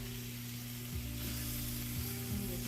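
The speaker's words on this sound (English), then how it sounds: "I'm going to go ahead and add a can of tomatoes." Canned tomatoes seasoned with basil and oregano land in a hot pan with softening onions, giving a steady, close sizzle and frying hiss with faint stirring clatter, no voices.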